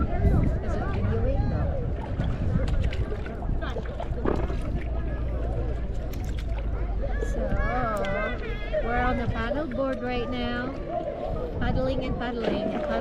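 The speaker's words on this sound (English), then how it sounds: "paddling and paddling and paddling" A small paddled boat moves over open water with steady wind rumble and faint splashing, while several people talk and call out over it.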